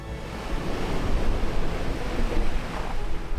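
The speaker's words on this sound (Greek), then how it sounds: "Τα κύματα είναι πολύ μεγάλα, μάλλον από κάποιο καιρό που έχει πιο νότια." Large ocean waves wash and churn around a sailboat on an open-sea passage, a steady loud roar of surf and rushing water with wind buffeting the microphone, no voices.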